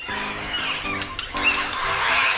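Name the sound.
parrot call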